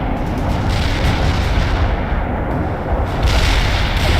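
A heavy artillery barrage in the Cold War strategy game World in Conflict rumbles as a dense, continuous roar of overlapping blasts, loud and close, with no pause across the whole stretch.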